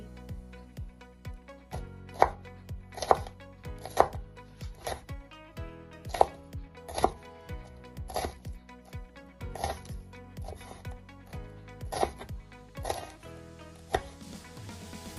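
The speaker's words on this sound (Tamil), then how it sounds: "அடுத்தது பச்சை மிளகாய வெட்ட போறேன்" A knife chopping green chillies into small pieces on a cutting board, a steady run of sharp, close chops with brief pauses in between and no voices.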